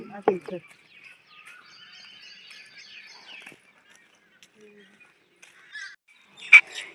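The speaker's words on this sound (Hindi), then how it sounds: "चिड़िया के चहकने की आवाज़ और कोयल की कूक कूक की आवाज़" Sparse bird chirps and calls in a quiet green village setting, with a few brief twittering phrases and a sharper koel call near the end.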